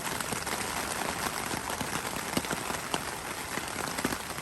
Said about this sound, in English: The rain starting again.